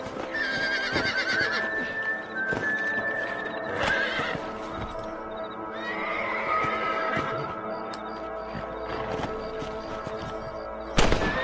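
Horses whinny loudly over steady clip-clopping hooves, with a sharp crack near the end and busy game ambience throughout, from Red Dead Redemption.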